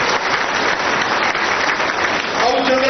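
Audience at a political rally in Chhattisgarh claps steadily in a dense, sustained wash of applause, with a voice starting to speak over it near the end.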